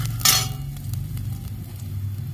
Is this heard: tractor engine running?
no